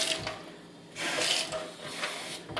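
Water runs steadily from a newly replaced kitchen faucet into the sink, a broad hiss that swells and eases over a few seconds, close by with no voices.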